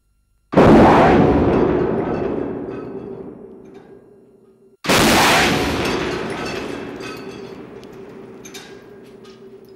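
A Bill 2 anti-tank missile warhead detonates against an armor plate representing a modern tank turret roof fitted with reactive armor: two loud, close blasts about four seconds apart, each with a long, rumbling decay and no voices.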